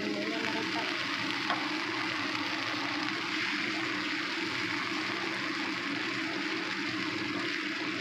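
Water simmering in a pan of dried salted squid gives a steady, continuous hiss and sizzle that holds at an even level throughout, with no talking.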